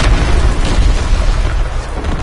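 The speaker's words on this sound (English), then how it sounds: "Incoming enemy artillery. Get to cover." Enemy artillery explodes in a video game as a loud, deep, rumbling boom that sustains heavy low-end roar throughout with no clear separate blasts.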